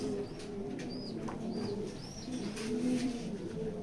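A short-tailed racer pigeon cooing close by in a loft setting, several low soft coos repeating rhythmically, with faint chirps from other birds in the background and no talk.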